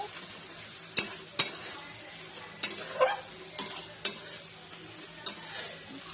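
Shidol fish go into a pan for chutney, giving a few sharp clatters and stirring scrapes over a soft, steady sizzle close by, with no talk.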